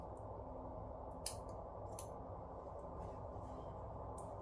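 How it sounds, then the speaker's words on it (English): Scissors snipping through paper while cutting out a hole-punched shape for a DIY art journal, a few faint crisp cuts spaced apart over a steady low background hum. "then I can cut it out with my scissors the rest of the way"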